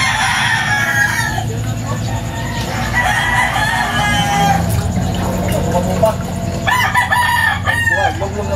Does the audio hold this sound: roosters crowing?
yes